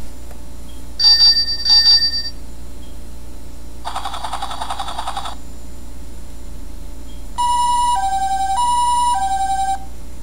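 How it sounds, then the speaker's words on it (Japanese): A cartoon-style ambulance siren, part of a children's vehicle picture book, sounds in three separate bursts of changing tones, each a second or so long, loud and close with no talking. "救急車、どこかな"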